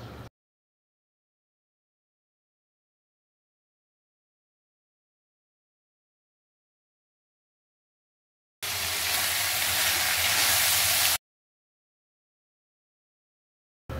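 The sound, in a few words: fresh small shrimp (ola jawla) sizzling with frying onion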